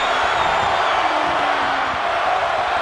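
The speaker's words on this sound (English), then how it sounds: "Look at this crowd." A wrestling arena crowd in WWE 2K22 roars in a steady, dense wall of cheering throughout, loud and continuous, with no distinct voices standing out.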